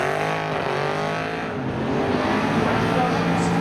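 A 2007 Subaru Outback accelerating at a spectator drag strip at Seekonk Speedway, engine rising in pitch with tones sweeping through the gears, loud and steady with crowd and track noise beneath.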